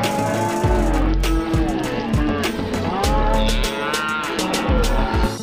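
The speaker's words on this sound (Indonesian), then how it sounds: "Ternyata ini sapi." A toy cow's recorded mooing from a muddy animal-toy game, several drawn-out moos repeating with low rumbling engine-like sounds underneath, loud and close.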